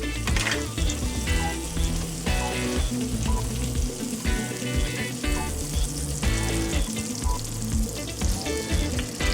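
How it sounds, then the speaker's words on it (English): Butter and olive oil sizzle loudly and steadily in a warm pan, a dense continuous frying crackle with occasional clinks and stirring, no voices. "we'll warm up a pan and add some butter, and I will also add some olive oil"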